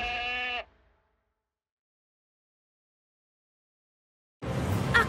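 A goat on a farm lets out one harmonic bleat at the start, followed by silence and then a burst of noisy sound at the end.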